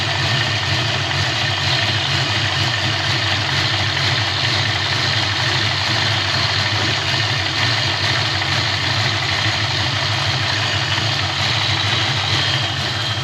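A 1988 Ford Mustang LX Foxbody engine idles steadily and loudly up close, a continuous low rumble with no change in speed and no talking over it.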